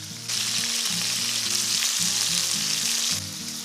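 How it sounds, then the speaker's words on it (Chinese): Garlic frying alongside lamb chops in a pan, a bright continuous sizzle that swells after a soft start and eases near the end, with light music beneath. "再放点大蒜煎一煎，"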